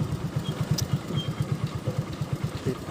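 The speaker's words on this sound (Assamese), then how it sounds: "ছোৱালীও বাইক চলাই" Motorcycle engine idling or running at low speed nearby with a steady pulsing throb, ridden by a girl on the way to a Bihu ground being prepared for the festival.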